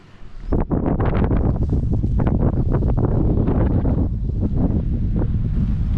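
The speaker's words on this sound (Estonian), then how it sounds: "Tuul puhub alt üles." Strong wind blows up from below at an exposed spot by a reservoir dam on the Camino Primitivo, a loud, continuous buffeting roar across the microphone.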